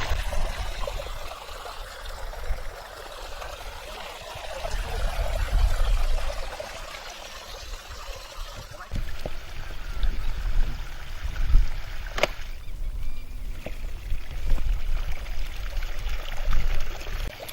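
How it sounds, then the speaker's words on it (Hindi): Irrigation water rushes and pours steadily into a farm field bed, where an automatic timer device diverts the flow to the next bed. A continuous close-up gurgle and splash swells at times, with no talking. "जैसे ही ये 0 पे आएगा, ये पानी पलट जाएगा और ये पानी दूसरी क्यारी में जाने लग जाएगा।"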